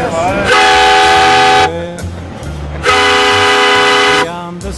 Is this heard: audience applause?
no